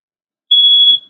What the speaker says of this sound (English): but the smoke alarm is going off.